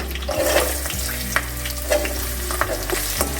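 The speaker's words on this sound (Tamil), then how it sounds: "இப்போ இந்த வெங்காயமெல்லாம் நல்லா வதங்கட்டும்." Steady sizzling of small onions frying in hot oil, with a few sharp stirring clicks and a low background hum, village-style cooking.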